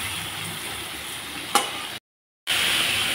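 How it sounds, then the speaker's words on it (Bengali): Koi fish frying in a pan with turmeric and salt: a steady close sizzle and hiss with one sharp click partway through, then a short silent gap before the sizzling resumes. "আর হলুদ গুঁড়া দিয়ে আমি ভেজে নিচ্ছি।"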